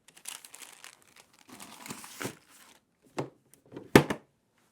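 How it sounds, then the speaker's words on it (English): Paper crinkles and tears as smoked lamb, a bone-in cut, is unwrapped from its paper wrapping, with soft rustling bursts followed by a couple of sharper crackles near the end. "So let's get it out of the paper."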